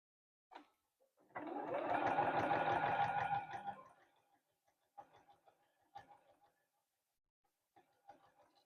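A sewing machine stitches a quilt strip for a table runner in one close burst of rapid whirring lasting about two seconds, followed by faint scattered clicks and handling noises.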